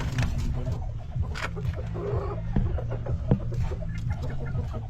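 A red junglefowl (labuyo) rooster clucks and calls in short bursts among other birds in an outdoor yard, with steady low background noise throughout.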